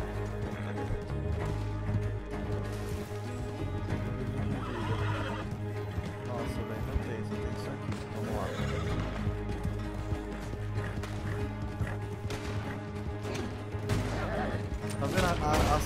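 Horse neighing and hoofbeats in the video game Red Dead Online, a whinny and galloping clip-clop mixed with background game sounds and someone talking.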